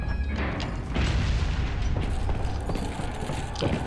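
An infinite bazooka in a video game fires and the rocket blows up, giving heavy booming blasts with rumbling, crackling debris that fill the whole stretch, loud and continuous with no talk.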